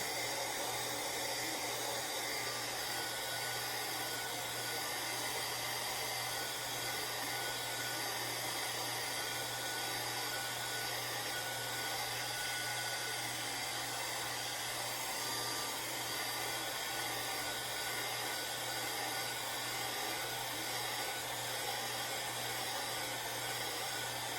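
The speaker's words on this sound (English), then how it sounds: "I actually hit it with a heat gun." A heat gun blows hot air in a steady, unbroken whoosh and hiss with a low electrical hum beneath, running alone and fairly quietly throughout.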